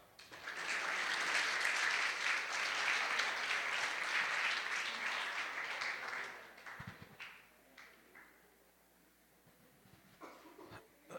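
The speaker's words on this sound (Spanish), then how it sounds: "para quien pido un fuerte aplauso" An audience welcomes a lecturer with strong applause, loud and dense for about six seconds, then thinning into a few scattered claps and quiet room noise.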